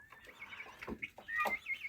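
A farmyard hen clucks in short, soft bursts among other poultry, with a few sharper calls rising over a busy background of birds.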